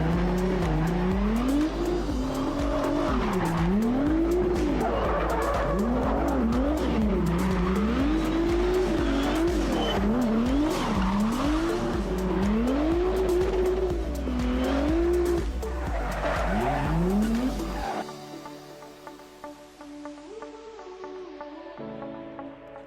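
A Nissan 240SX drift car on a circuit, tires squealing in long wavering howls while the engine revs rise and fall through repeated slides, loud and close, ending in a sudden cutoff to quieter engine noise.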